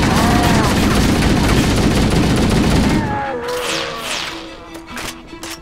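Heavy gunfire and a booming grenade blast in a Halo battle against the Flood fill the first three seconds loudly and densely, then the fight thins to scattered sharp effects and electronic tones.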